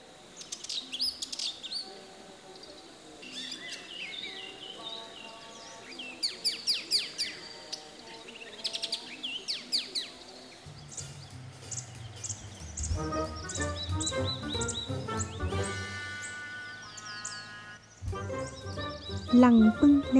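Birds sing during nesting season in the Thai-speaking uplands, a layered chorus of chirps, trills and bright tweets with steady repeated calls, mixed with a low background hum and rising toward the end.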